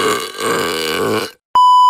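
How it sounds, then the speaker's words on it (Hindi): A single long, loud, close burp lasting over a second, followed by a steady electronic beep tone. "क्या आपने कभी सोचा है कि हमें डकार क्यों आती है?"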